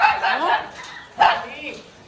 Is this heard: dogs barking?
yes